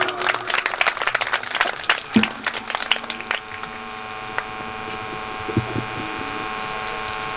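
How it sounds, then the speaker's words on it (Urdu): An audience at a Pothwari sher poetry gathering breaks into a burst of clapping that fades out after a few seconds, leaving a quiet room with a faint hum. "بھرپور تالیاں"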